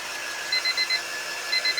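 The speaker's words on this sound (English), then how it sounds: "Okay, there's the timer. Oh, that's the timer." A kitchen timer goes off with two bursts of four short, high beeps separated by a brief pause, fairly quiet over faint room hiss and no talking.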